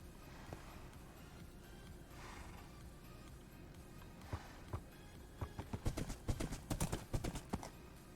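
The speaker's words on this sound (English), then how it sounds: "Let me go get a horse and I'll show you what we have so far." A horse's hooves clip-clop across an outdoor obstacle course area, starting as scattered faint steps and building into a quicker, louder run of close hoofbeats over a steady background hiss.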